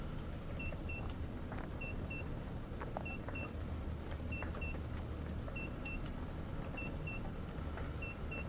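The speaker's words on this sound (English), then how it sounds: "Beeping interested me" Short electronic beeps from the mining game MineMogul, paired chirps repeating at about one-second intervals over a steady low machinery rumble.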